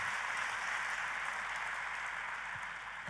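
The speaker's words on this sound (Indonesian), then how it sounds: "Boleh sekali lagi tepuk tanganmu yang paling meriah saudaraku." A church congregation applauds in a steady, dense wash of clapping that stays even and moderately distant throughout, with no voices above it.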